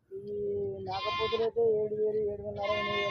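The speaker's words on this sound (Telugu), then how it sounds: "మన లోకల్ మేక పిల్ల కొంచెం ఇది ప్యూర్ లోకల్" Local native goat kids bleat at a weekly livestock market in Siddipet, with two loud, close, wavering bleats over a steady murmur of the crowded market.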